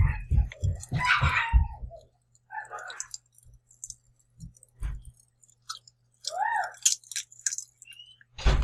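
Close, wet chewing of Pop Rocks candy with sharp crackling clicks and pops in irregular bursts, broken by brief vocal sounds and pauses.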